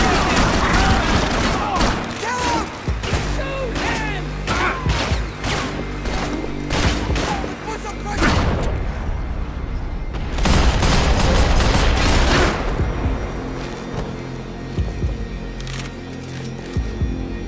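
Heavy gunfire in Max Payne 3, dense fusillades of rapid shots and cracks ringing out loud and near, with game voices shouting over the shooting and a brief lull before another intense burst.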